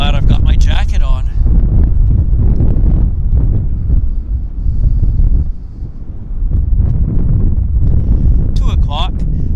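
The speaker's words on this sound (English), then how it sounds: "Oh, it's windy." Strong wind roaring across the microphone at Vancouver Airport, easing briefly midway before gusting again, with a voice speaking at the start and end.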